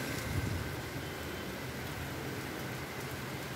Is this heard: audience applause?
no